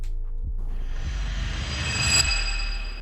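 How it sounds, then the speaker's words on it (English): A swelling synthetic whoosh builds and brightens over a few seconds, washed in heavy reverb, ending in a long echoing tail. "when you turn on the reverb, it sounds like this."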